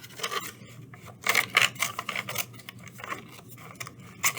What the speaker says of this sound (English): we're going to take this envelope here, and we're actually going to cut it